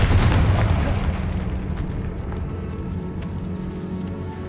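A Confringo blasting spell goes off in Hogwarts Legacy inside a decayed catacomb, a loud booming explosion with a deep rumble that slowly fades over several seconds.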